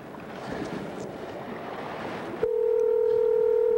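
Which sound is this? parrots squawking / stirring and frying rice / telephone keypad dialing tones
telephone keypad dialing tones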